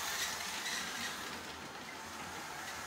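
A model train runs on rails over 40 years old, giving a steady, close rushing rumble with a faint rolling hiss that holds without a break.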